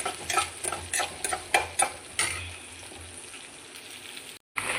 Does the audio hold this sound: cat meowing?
no